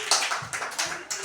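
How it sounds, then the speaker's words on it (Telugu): Children in a Class 1 classroom clap their hands together in a short burst, with a few quick, slightly uneven claps close by and no talking. "క్లాప్స్."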